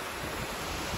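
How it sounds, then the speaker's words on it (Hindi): A small mountain waterfall and flowing river rush in a steady, broad roar, close and continuous, with some wind buffeting the microphone. "ये छोटा सा वाटरफॉल भी है यहाँ पे"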